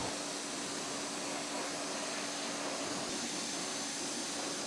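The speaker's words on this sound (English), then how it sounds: "All you have to do now is pressure wash it off." A pressure washer sprays a continuous, fairly faint hiss of water while rinsing two-phase wheel cleaner and brake dust off a car wheel, with no talking.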